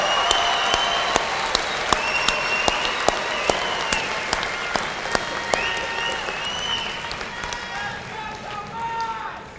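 An audience at a 2019 Southeastern Oklahoma State University graduation ceremony applauds the graduates and their families, a broad sustained roar of clapping from a large crowd with some cheering whistles mixed in, tapering toward the end.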